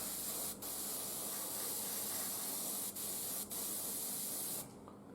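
Metallic paint sprayed from a can onto an Imperial Knight model makes a close, loud, steady hiss in long bursts broken by three brief pauses, then stops abruptly.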